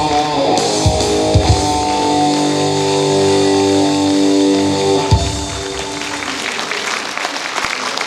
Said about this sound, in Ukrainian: Треба ще дуже-дуже-дуже гучні оплески для татка дітей фрістайла, для продюсера-композитора